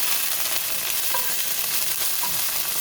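Chicken frying in a pan with a small drop of oil, giving a steady, even sizzle that runs the whole time with faint stirring clicks and no voices.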